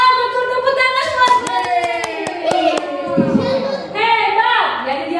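Children in a kids' online church service clap their hands: a quick burst of about a dozen sharp claps while an adult's voice keeps talking over them.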